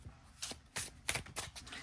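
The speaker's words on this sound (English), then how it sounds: "All right, so let's see how well this shuffles." A large tarot deck riffled and shuffled by hand, several quick papery bursts of card flutter in close, brisk succession.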